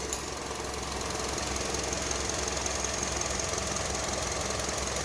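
A 2009 Honda CR-V engine idles steadily up close, a dense, even mechanical churn with a knocking texture and no talk over it.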